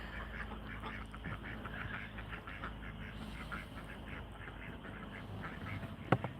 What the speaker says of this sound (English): There are the duckies.